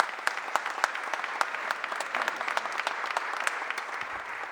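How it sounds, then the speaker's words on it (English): A crowd at a mayor's press conference applauds Jerry Sweeney as he is introduced to lead Center City rejuvenation efforts, a sustained burst of clapping with sharp individual claps standing out close by, loud and without speech. "Give him a round of applause."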